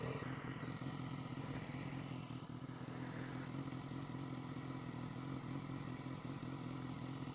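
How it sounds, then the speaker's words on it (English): A motorcycle ridden through hills, heard as a continuous low engine drone with wind rush and rattling that stays steady throughout, without talk. "Fantastic bike."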